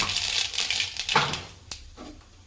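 Mustard seeds crackle and pop in a hot pan while a Tamil tomato stir-fry is cooked, giving a dense run of sharp sizzling ticks that thin out toward the end, close and fairly loud with no talk.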